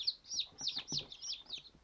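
Young chicks cheep in quick, high, repeated peeps while being given water, a faint, close, steady stream of small calls with no voices.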